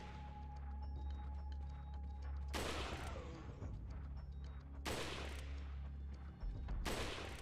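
Gunfire in the video game Resident Evil 4, three loud sharp gunshot bursts at irregular intervals over a low rumbling game background, close and punchy.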